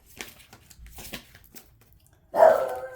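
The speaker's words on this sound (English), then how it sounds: "Sorry, guys. My dog." Near the end, a pet dog lets out a single loud, close bark after a stretch of faint indoor rustling and shuffling.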